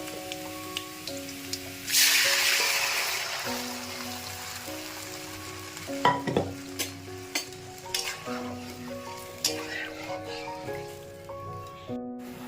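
Boiled dal is poured into a sizzling tempering of onion and dry red chillies, a burst of sizzle followed by stirring scrapes and splatters, with soft background music and no talk.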